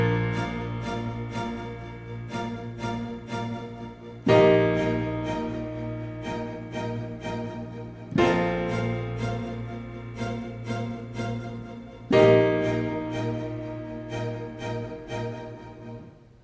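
A piano part for a worship song plays an octave higher, doubling the lower part. A quick repeated rhythmic pattern is struck over steady low chords, and fresh accents come every four seconds or so. It plays alone with no talking.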